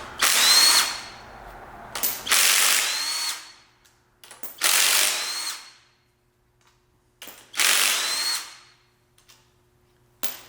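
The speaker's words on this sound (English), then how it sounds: "this is a 3/8 drive Matco Tools lithium ion 18-volt impact wrench" A Matco Tools 3/8 drive 18-volt lithium-ion cordless impact wrench removing caliper bracket bolts on a monster truck, four loud, close bursts of rapid hammering whir, each a couple of seconds long, separated by quiet pauses.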